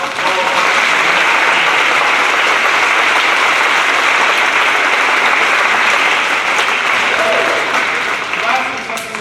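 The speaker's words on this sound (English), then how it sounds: "John Schmidt, please stand and let's give John a round of applause." A hall audience at an academic awards presentation breaks into sustained, dense applause that stays loud and even for several seconds before starting to thin near the end.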